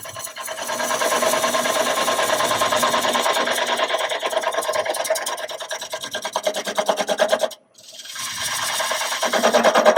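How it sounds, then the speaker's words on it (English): A lathe tool finish-turning a roughed-out dry wooden bowl, with the tool rest set close and the tool cutting flat at the edge: a steady, loud rasping scrape that runs continuously, breaks off briefly, then resumes. "I got the tool rest about 1 inch away from the bowl blank itself. I go right on the edge flat."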